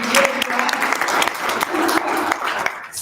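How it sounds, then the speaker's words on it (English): Applause from an audience at a regional convening on access to justice for persons with disabilities. Steady broadband clapping fills the clip at moderate level, with a voice briefly heard under it, tapering slightly at the end. "So our champion here deserves a round of applause"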